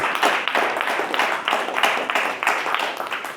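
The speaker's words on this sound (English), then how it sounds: "give yourselves a round of applause" Listeners at a Black Men Read gathering give a round of applause, a close, fairly loud patter of many hands clapping in uneven surges, with no talk over it.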